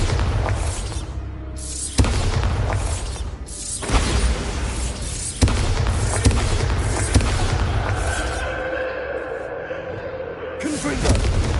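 Bombarda spell blasts in Hogwarts Legacy, several booming explosive hits with crashing debris spaced across a busy game soundscape, loud and close.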